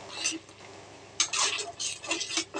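Pointed gourd and spices being stirred in a pan for a Bengali vegetarian potol posto, with metal utensil scrapes and clinks in bursts, a quiet pause, then renewed busy stirring close by.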